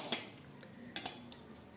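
A metal pot is picked up and handled in a kitchen while bitter gourd is prepared, giving a few light clanks and scrapes close by at a low level.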